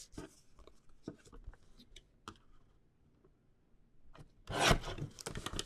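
Trimming a scrapbook paper mat, faint scattered clicks and scrapes of a paper trimmer at close range, then a louder rasping slide of the blade cutting through paper near the end.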